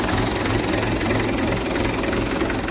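A Bhumiputra 475 4x4 tractor engine runs steadily at idle up close, a loud, continuous low rumble with a rapid knocking pulse and no talk over it.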